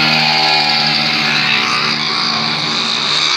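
A loud, close swarm of motorcycle engines drones and revs together as many bikes ride past on a street, a continuous layered buzz with shifting pitch.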